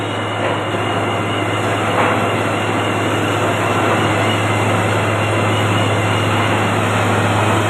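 A borewell boring machine drills steadily, a loud, continuous low mechanical drone with a constant hum, close by and uninterrupted throughout, with no voices.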